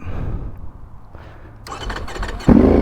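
A 2025 Ducati Panigale V4S fitted with an Akrapovic exhaust cranks and fires up, a starter whir giving way to a loud, close, rough engine catch that bursts into a throaty roar at the end.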